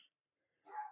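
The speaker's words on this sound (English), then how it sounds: "excuse my dog, he always barks." A dog barks in a short burst near the end of the moment, fairly close and moderately loud, after a brief quiet stretch.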